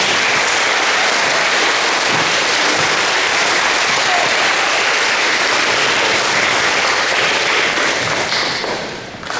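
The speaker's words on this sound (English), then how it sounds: "let's give the PTO a round of applause" A crowd at a fifth grade graduation ceremony gives a loud, dense round of applause for the PTO, sustained clapping that fades slightly near the end.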